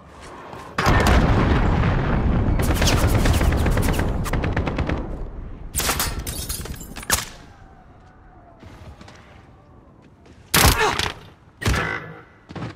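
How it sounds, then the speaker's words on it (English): A cruise missile strike and gunfire in a video game hit as a loud opening blast followed by sustained rattling fire, then fading rumble and a few sharp later bursts and bangs. "Allied cruise missile launched."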